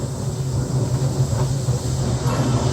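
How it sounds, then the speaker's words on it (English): An electric cogwheel train rumbles past at the glacier station on the Zugspitze, Germany's highest mountain, a steady close mechanical drone with rhythmic clanking, no voices. "Here comes the cogwheel train."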